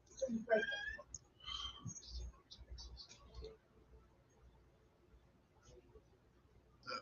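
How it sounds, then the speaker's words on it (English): A cat meows a few times in the background, faint and intermittent, with quiet room noise between calls. "He must have heard of the cats in the background"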